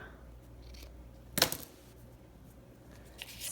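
A single quick snip of scissors through a strip of seam binding, close and crisp, with faint handling rustles before and after in an otherwise quiet room.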